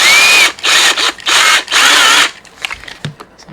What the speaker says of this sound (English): you just stick it into a drill chuck.